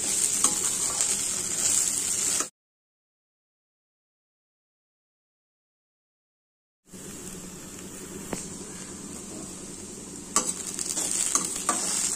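Okra being fried and stirred in a pan for a coconut and green chilli okra stir-fry, cooked on low then medium flame: a steady hiss and sizzle with scraping stirs, cut off by a few seconds of silence before the frying resumes.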